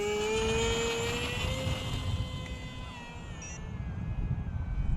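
An Aeroscout model airplane's small engine runs at full throttle with a loud, steady high-pitched whine whose pitch drifts slightly as it passes nearby outdoors.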